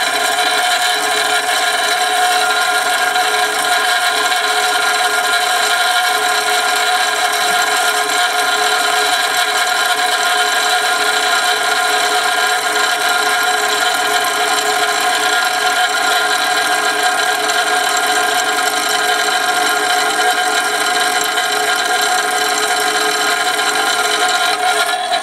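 A Dillon RF 100 auto primer loader runs steadily and loudly, a continuous mechanical whir and rattle holding an even level throughout with no talking.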